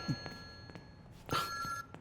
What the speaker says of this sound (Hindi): सुना नहीं आपने? फोन उठाइए।